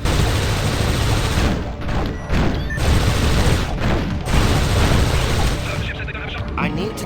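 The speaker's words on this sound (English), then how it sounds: "this is when I emptied my mag into him" Sustained automatic gunfire in the Warhammer 40k video game empties a full magazine into a Space Marine, loud, close rapid bursts with brief gaps, and a voice talks over the shooting.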